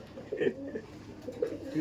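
Giribaj pigeons, a female among them, cooing at a pigeon seller's stall in Sodpur, with soft low murmuring coos recurring close by and someone talking over them.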